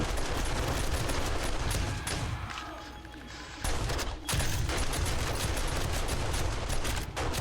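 Dense gunfire and explosions from the zombie survival game 7 Days to Die, with rapid turret bursts and booming blasts filling the scene almost continuously, briefly easing before loud fire resumes.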